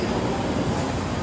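LRT light rail train, a dense rumbling rattle of a moving railcar heard from close by, continuous and fairly loud over the short stretch.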